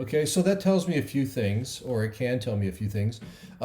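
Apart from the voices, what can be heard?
No distinct noise like a dog, phone or traffic.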